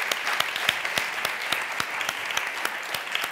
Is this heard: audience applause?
yes